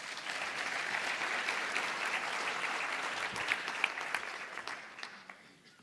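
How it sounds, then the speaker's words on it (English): Audience applause at a conference opening session as a speaker walks up, broad sustained clapping from a large crowd, fading toward the end. "A round of applause, please, as she makes her way up."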